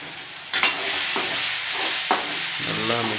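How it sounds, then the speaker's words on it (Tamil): Tomato masala sautés in a pan with a close, steady sizzle, while a spoon drags through it in three or four distinct scraping strokes. "நல்லா மிக்ஸ் பண்ணிட்டு தக்காளி நல்லா வதங்கிடுச்சு"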